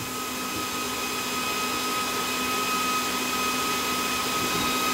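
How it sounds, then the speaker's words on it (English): Cooling fan of a high-pressure air compressor, an HDR 68, running alone after the compressor stops, a steady loud whirring hum with a constant whine and no change over the span. "now the compressor stop. Only that is working is the fan."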